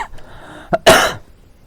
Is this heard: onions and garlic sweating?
no